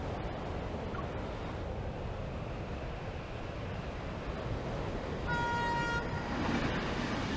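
Train rushing through darkness in the Love and Deepspace video game, a steady loud rumble of wind and rails, then a sustained horn-like tone sounds near the end.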